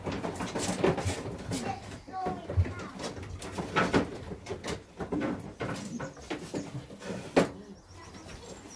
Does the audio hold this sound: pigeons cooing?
yes